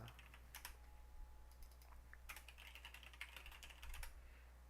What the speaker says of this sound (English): Everyone gets to listen to my loud keyboard for a moment.